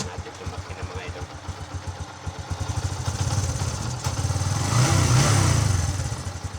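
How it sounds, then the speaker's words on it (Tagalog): A motorcycle tricycle engine idles with a rapid, chugging putter, then revs up into a louder, rising growl that peaks and eases off while warming up; a voice speaks briefly over it. "painitin muna natin yung makina mga idol"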